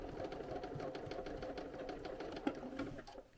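A sewing machine back stitches a sweatshirt seam, running in a steady, continuous rapid whir up close with a brief click near the end before it slows and stops.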